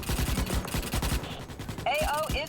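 Rapid gunfire from the video game Starship Troopers: Extermination rattles in quick bursts, followed by sharp metallic effects and a voice speaking over the action.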